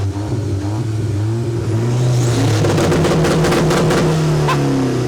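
A car engine revving up close at a car show, rising and falling in pitch with a loud throaty roar that builds through the clip.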